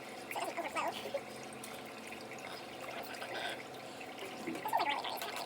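Tap water runs into a sink while makeup brushes are washed, a faint steady trickle with soft splashing bursts, close and quiet.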